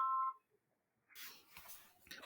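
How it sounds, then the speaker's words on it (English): A mobile phone being switched off gives a single short, clear beep, followed by quiet rustling handling noise. "Gotta shut my phone off."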